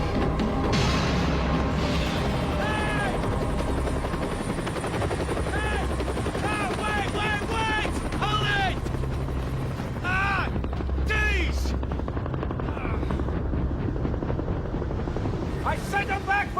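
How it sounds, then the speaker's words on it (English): A helicopter's rotor thrums loudly and continuously through a scene from the 1999 action film Survivor, with sharp mechanical bursts now and then. Voices talk over the noise. "You just came in the chopper."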